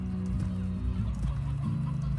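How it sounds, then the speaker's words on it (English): Chickens cluck softly in the Slime Rancher video game, a short low murmuring stretch of fowl clucks heard faintly and continuously with no talking. "I like that I have these chickens that I literally refuse to feed"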